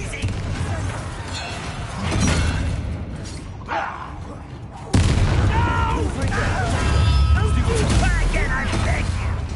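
A Bombarda explosion spell in Hogwarts Legacy sets off a heavy booming blast amid ongoing combat noise, followed by a louder sustained rumble, with a voice speaking over the fight.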